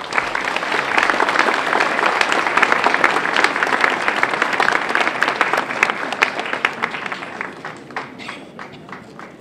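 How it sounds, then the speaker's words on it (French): Audience applause at an outdoor anniversary show for the Liberation of Le Mans, a dense crowd clapping loudly and steadily for several seconds before thinning into scattered claps. "Sous vos applaudissements, messieurs"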